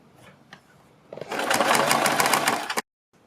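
A sewing machine stitches pintucks along marked lines on a neck design, a short close burst of rapid whirring that cuts off abruptly, with faint handling noises before it starts.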